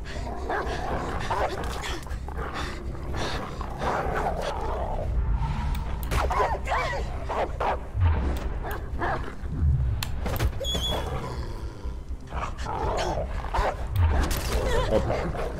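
Dog in the video game Beyond Two Souls, with yips, whimpers and short barks over game noise and a voice that talks now and then.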